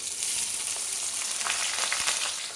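Sliced onions fry in plenty of oil with whole garam masala and two bay leaves for a mutton curry, a steady close sizzle with faint stirring scrapes throughout.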